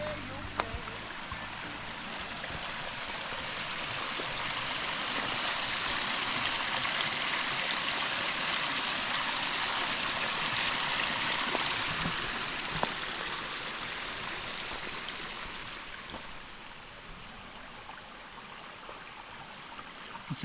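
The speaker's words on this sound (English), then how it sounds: "look at this pretty little creek." A small stream trickles and babbles steadily at a soft, even level, with no other prominent sounds.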